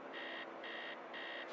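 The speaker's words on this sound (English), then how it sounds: "Somebody's alarm clock, do you reckon?" An alarm clock rings from somewhere inside a house, heard faintly from outside as three evenly spaced electronic buzzing beeps over steady background hiss.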